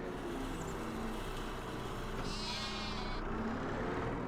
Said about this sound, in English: Strange sheep.